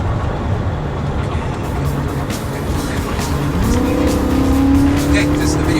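A car laps the Nurburgring in a racing simulator game with a loud, continuous engine drone that rises in pitch as it accelerates, plus some tire noise, all close up.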